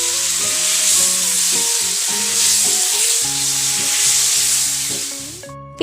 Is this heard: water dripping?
no